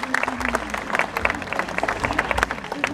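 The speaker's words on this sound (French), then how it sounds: "on peut l'applaudir" An audience applauds at a sea lion show at Walibi Agen park in 2017, giving lively, continuous clapping from a crowd with a faint voice over the top.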